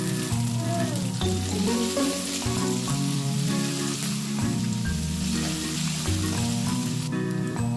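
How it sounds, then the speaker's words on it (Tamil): Garlic and curry leaves fry in hot oil as a tempering for a taro stalk dal, giving a steady, dense sizzle that runs the whole time over sustained tonal background sound. "பூண்டு நல்லா தட்டியாச்சு. இது பூண்டு போட்டுடலாம். இப்போ கருவேப்பிலை போட்டுடலாம்."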